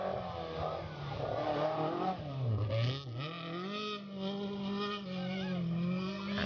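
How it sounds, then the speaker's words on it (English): A Porsche rally car at the Classic Safari rally, its engine revving hard and changing pitch as it lands jumps and accelerates, loud and sustained with a rising and falling rasp. "another beautiful Porsche taking the jumps well in their stride of Frederic Rosati at the wheel"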